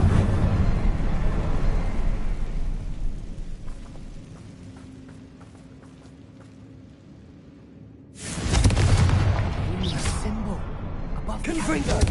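Bombarda and Confringo blast spells in the Hogwarts Legacy video game, loud booming rumbles with a crackling roar that fade into a quieter stretch before a second heavy blast erupts and rumbles on.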